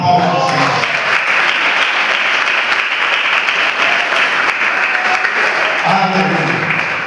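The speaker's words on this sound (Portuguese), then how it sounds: "dá uma salva de palmas ao Senhor" A church congregation claps together at a year-end worship service, steady sustained applause filling the space for about seven seconds with a few voices mixed in beneath it.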